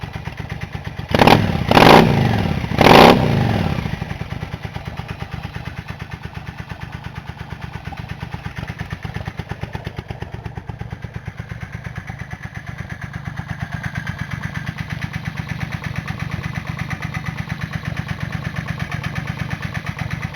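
A Yamaha engine, just fitted with a replacement fuel tank valve, cranks in three quick bursts, catches, then settles into a steady, loud, even idle that runs on without talk.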